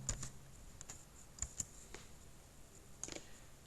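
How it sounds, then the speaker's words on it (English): Quiet typing on a computer keyboard, with a handful of sharp, irregular key clicks separated by short pauses. "I want you to type in portal.office.com"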